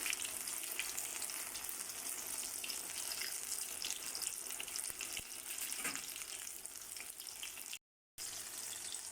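Eggplant slices frying in a pan, a continuous close sizzle and crackle of hot oil, with a brief silent gap near the end.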